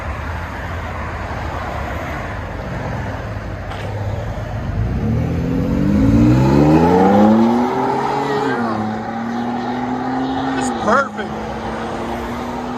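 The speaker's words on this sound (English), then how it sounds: "Ford F-150 SXT. Magnaflow Magnapack. It's like a factory resonator on it." A Ford F-150 with the 3.5L EcoBoost engine and a Magnaflow exhaust idles low, then revs up in a rising sweep, settles back, and gives a brief blip, recorded up close with someone speaking briefly.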